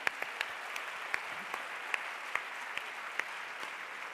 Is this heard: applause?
yes